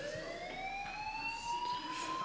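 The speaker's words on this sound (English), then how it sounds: "do you hear that fire alarm?" A fire alarm wails with a continuous rising tone in the video game Life is Strange, steady and moderately loud throughout, with no talk.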